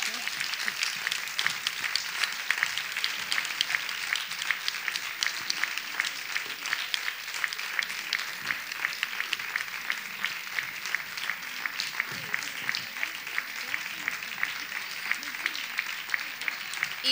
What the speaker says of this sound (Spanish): podéis seguir aplaudiendo